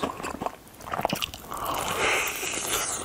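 Someone bites into crunchy fried chicken and chews quickly, loud crisp crunches and snaps up close, followed by steadier, softer mastication with a squishy, wet texture.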